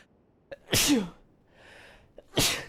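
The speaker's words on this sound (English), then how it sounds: "I'm about to sneeze again." Two loud, sharp sneezes, each preceded by a quick intake of breath, with a quieter pause between them.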